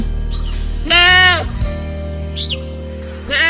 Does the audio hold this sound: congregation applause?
no